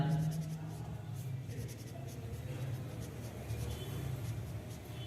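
Chalk or marker steadily writing a math formula for the volume of a cone on a classroom board, a continuous scratchy scraping running through the whole stretch at close range, with a teacher's voice faintly present.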